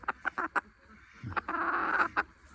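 A hen gives a run of short, sharp clucking calls close by, then a longer squawk, with more quick calls trailing after.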